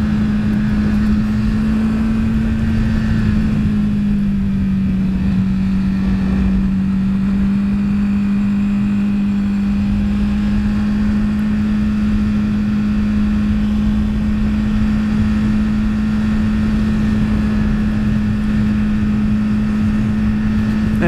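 A motorcycle cruises steadily at about 100 km/h on a country road, a loud constant engine drone with heavy wind rush throughout.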